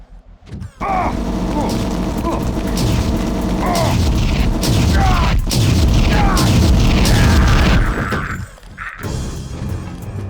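A plasma gun fires at security bots in the video game Deus Ex, filling the scene with loud, booming blasts and mechanical clanks. Crashing impacts overlap in dense bursts for several seconds before the noise thins out.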